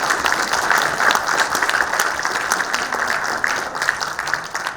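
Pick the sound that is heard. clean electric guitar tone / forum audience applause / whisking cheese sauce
forum audience applause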